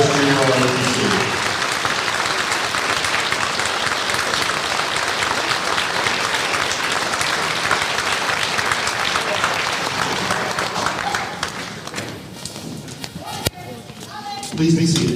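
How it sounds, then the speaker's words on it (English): An audience applauds at a middle school honor band concert for Air Force Junior ROTC cadets, with dense, steady clapping that fills the hall for over ten seconds before fading as a voice returns. "We have a round of applause for our students and cadets of the Air Force Junior ROTC."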